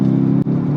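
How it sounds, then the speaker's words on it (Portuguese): Armored 2012 Mercedes S63 AMG V8 heard with the roof closed, a steady deep engine rumble held close and loud for under a second, with a brief dip midway. "Olha, ninguém faz o ronco de uma Mercedes AMG."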